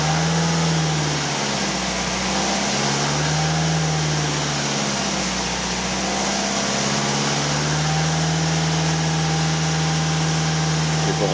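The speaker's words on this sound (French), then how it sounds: "il faut accélérer à 2000 tours pendant 30 secondes" A 2010 BMW 118d with a 2-litre diesel and ZF 6-speed automatic gearbox, held at about 2000 rpm in park, a steady loud engine drone with a constant hum and no speech throughout.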